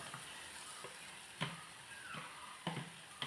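A beaten two-egg omelette mixture poured into a hot pan gives a soft, faint sizzle broken by a few sharp crackles and clinks, close by with no talking.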